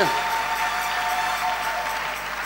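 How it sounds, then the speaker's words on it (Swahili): Church congregation in Kinshasa applauding for the Lord, a short burst of dense clapping from a crowd, fairly close and steady, slowly fading. "Tumpikie Bwana makofi"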